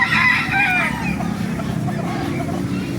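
A hen at a busy poultry market in Baliuag, Bulacan, clucking near and loud over a constant crowd murmur and background noise, with voices in the market.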